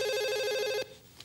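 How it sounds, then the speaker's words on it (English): A video phone rings with a bright, electronic ringtone made of a steady repeating tone, clear and close, then stops abruptly and leaves a quiet room. "How the hell do you answer a video phone?"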